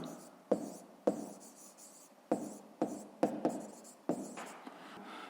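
A pen writing numbers by hand on paper, a close series of short scratchy strokes, each starting with a sharp tap and trailing off, with no talking.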